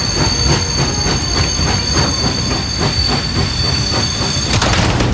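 A train rolls steadily through a Party Animals game, its wheels giving a continuous rumbling clatter with a faint squeal and hiss, loud and close throughout with no talk.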